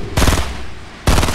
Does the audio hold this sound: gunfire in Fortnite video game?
yes